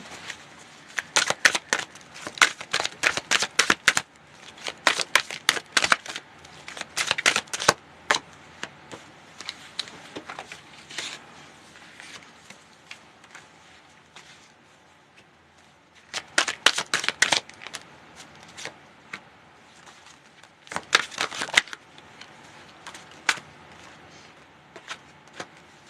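Tarot cards shuffled in repeated crisp riffling bursts, close and fairly loud, with pauses between rounds and no talk over them.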